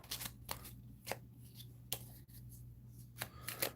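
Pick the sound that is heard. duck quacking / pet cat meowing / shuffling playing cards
shuffling playing cards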